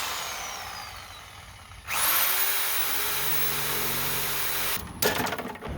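A Sawzall reciprocating saw starts abruptly and buzzes steadily, loud and close, while cutting during work on a vehicle. It stops near the end, followed by clattering handling noise.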